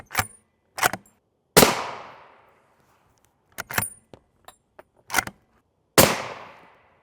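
Rifle shots of 7.62 NATO ball rounds fired at NIJ Level IV body armor outdoors, sharp loud cracks with ringing decay, several spaced shots including two close pairs.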